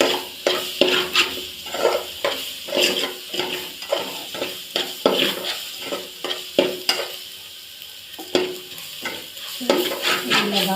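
A chilli powder mixture for Hakka noodles is stirred in a pan, making rhythmic, repeated scraping and clinking strokes of a utensil against metal over a soft sizzle, close and fairly loud.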